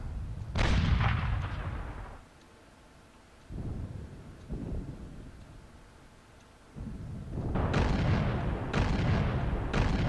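Anti-aircraft gunfire in the flight game IL-2 Battle of Stalingrad, with a medium-caliber AAA gun firing: loud, rumbling bursts of shots, a long opening volley, two shorter ones mid-way, then heavy sustained firing to the end.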